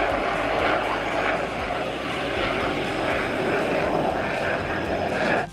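A huge propeller plane flies low overhead on its landing approach, its engine roar loud, close and steady for the whole stretch with no pauses.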